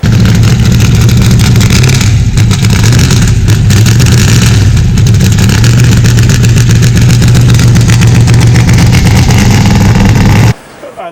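An unmuffled 1966 Corvette 427 vintage racecar engine runs loud and close, a raw, steady roar with rough pulsing and blips of revving, cutting off abruptly near the end; a voice is faintly present.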